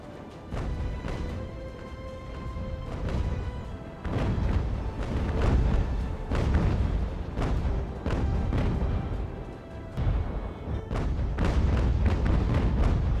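Naval cannon fire in Ultimate Admiral: Age of Sail, heavy booming broadside shots repeating irregularly throughout with a deep rumbling magazine detonation among them, loud and continuous with some faint voices.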